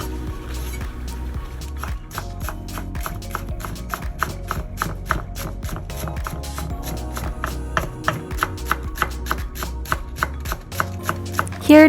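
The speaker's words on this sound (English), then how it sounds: "Same with the leaves, chop them up nicely." Vegetable stems and leaves for vegan Chinese pancakes being chopped on a board, a fast, steady run of close, crisp knife strikes keeping an even rhythm throughout.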